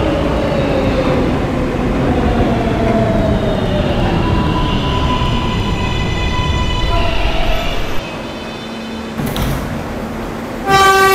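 R143 subway car on an R local train in a tunnel, with a steady loud rumble of wheels on rail, rising and falling motor whine, and squealing brake tones near the end as it slows.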